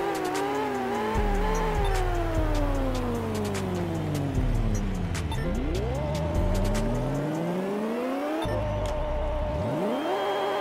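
A Dodge Challenger Hellcat Demon races an NSX in the video game Pixel Car Racer, its engine revving hard through rising pitch sweeps with abrupt drops at each gear shift, loud and close throughout without any talking.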